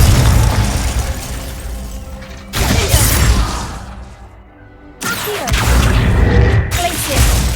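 Loud fiery blasts from the Confringo spell in Hogwarts Legacy: three explosive bursts a few seconds apart, each with a crackling, rumbling tail, over dense game sound.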